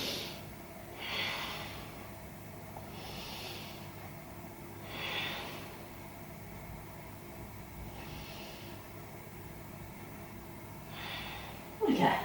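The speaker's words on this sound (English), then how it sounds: "take 3 big breaths into your back" Slow, deep breaths during a yoga core exercise, several soft airy inhales and exhales spaced a couple of seconds apart, quiet and close, with a faint knock at the end.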